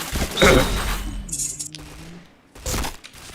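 Gunfire in a shooting video game: a loud, sharp burst at the start, a ringing metallic clink and a lower tone trailing off, then another short burst of shots near the end.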